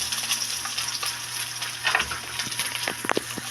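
Garlic, onion and chili sautéing in moderately hot cooking oil give a dense, steady sizzle with a few stirring scrapes and clinks near the end, close up, with no voices.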